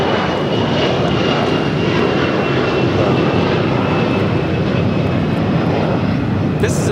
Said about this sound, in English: This is American Airlines 1305 taking off to Dallas-Fort Worth on the A321